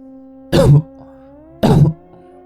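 Two short, harsh coughs from a nearby person, about a second apart, with quiet in between.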